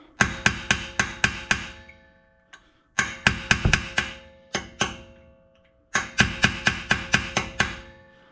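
A chisel is hammered into a stuck brake rotor screw on a Honda Odyssey rear brake to cut a groove, heard as three close bursts of rapid, sharp metallic hammer blows, about six strikes each, separated by short pauses.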